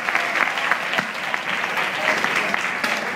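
Audience clapping after a Catalan tongue-twister game, dense and steady throughout at a moderate level, with a few voices mixed in among the claps.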